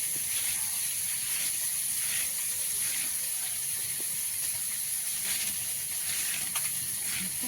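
Fish fries in a pan, giving a steady bright sizzling hiss that runs throughout at an even level with small crackles.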